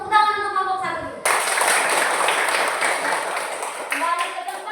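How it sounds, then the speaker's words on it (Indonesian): Classroom of students applauding a presenting group, a burst of dense clapping for about three seconds between a teacher's speech before and after. "Tepuk tangan untuk kelompok 1 dulu."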